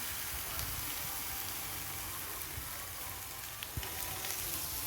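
Dahi dhapate flatbread frying on a griddle with butter and oil, giving a faint, steady crackling sizzle like light rain, with a few small pops.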